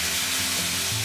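Chips frying in a pan of hot sweet chili garlic sauce, giving a steady close sizzle with a low bubbling undertone throughout, no voices.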